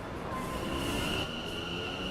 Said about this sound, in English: Your train will arrive shortly.